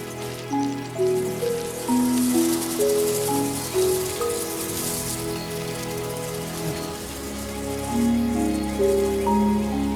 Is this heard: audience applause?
no